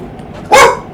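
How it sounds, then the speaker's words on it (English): A single dog bark bursts out loud and close, one short sharp yelp over quiet room tone. "The dog's seen somebody."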